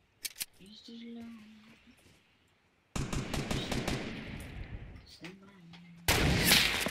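Bursts of gunfire in the battle royale video game Fortnite's Getaway mode, loud rapid volleys arriving in dense stretches between quieter gaps with other game sounds.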